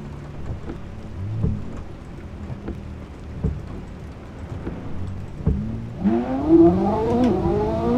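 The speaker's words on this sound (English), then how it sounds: "I think the rain should stop any moment now." Steady rain falling in the Assetto Corsa racing game while driving a Ferrari SF90 Stradale, a constant patter mixed with low engine drone, the engine rising in pitch as it accelerates near the end.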